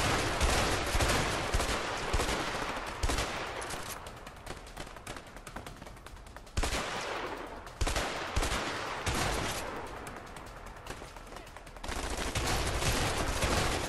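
Bursts of gunfire from the video game A Way Out, several rapid volleys cutting in and out with quieter stretches between them, loud and close with no talk over them.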